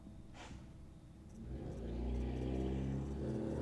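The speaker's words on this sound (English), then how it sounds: "Boy, I really wish that person with the really noisy engine would go away." Noisy vehicle engine in Horizon Zero Dawn rising from a quiet hum into a loud, steady droning rumble that builds over a few seconds and holds.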